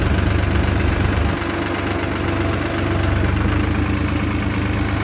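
A New Holland 3630 tractor engine idles close by, a steady low rumble with a faint knocking pulse running evenly throughout, with no voices.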